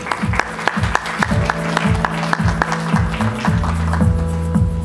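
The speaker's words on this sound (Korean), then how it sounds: "신현수 전무님을 무대 로 모시도록 하겠습니다. 박수 많이주십시오" Applause rises from an audience at the SsangYong G4 Rexton launch event as the marketing director takes the stage, mixed with loud, steadily beating entrance music.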